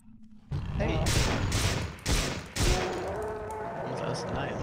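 Gunfire in the video game System Shock 2, four loud bursts of shots in quick succession over a steady background hum, with game noise continuing afterward.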